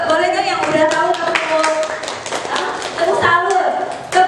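A group at a school teacher-training session claps a rhythmic tepuk salut chant, with quick patterned hand claps mixed with voices chanting along over the beat.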